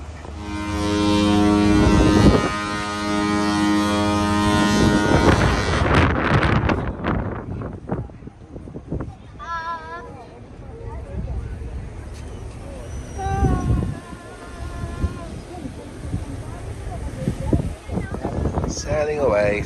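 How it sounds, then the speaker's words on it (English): MSC World Europa cruise ship setting sail, with a deep, loud horn blast droning for the first several seconds, then wind rumble, crowd noise and scattered voices nearby as the vessel departs. "Getting ready to set sail."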